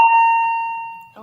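A bell closing a segment of a weekly Missouri coaches show: one bright electronic ding that rings out and slowly decays, followed by a brief voice at the very end.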